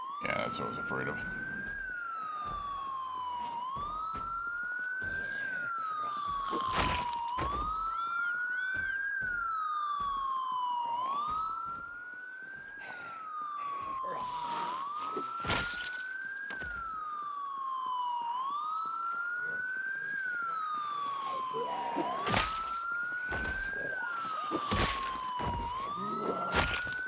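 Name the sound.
loud siren in Project Zomboid video game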